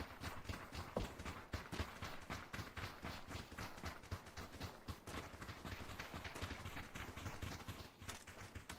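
Quick footsteps of a player character running on an upper floor in PUBG, a steady rapid patter that stays even throughout, faint and somewhat distant, with no talking.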